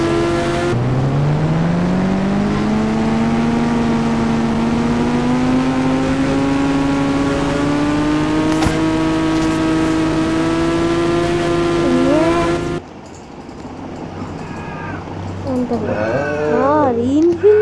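A motorbike in the video game Indian Bike Driving 3D races at high speed, its engine whine climbing steadily in pitch for about twelve seconds before cutting away to quieter game sounds, with a voice audible near the end.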